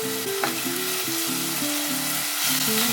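Vegetables for a Bolognese sauce fry in a pan with a steady, close, full sizzle that holds throughout. Faint stirring noises can be heard underneath.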